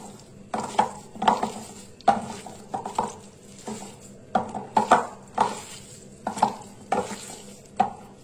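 Chopped banana flower is mixed with spices by hand, giving a run of short, moist squelching and rustling pushes at an uneven rhythm, close up and alone.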